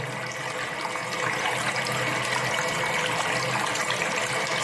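Yellow-tinged city tap water in Gilan, northern Iran, gushing steadily from a faucet, a close, constant splashing rush that grows slightly fuller after the first second, with no speech.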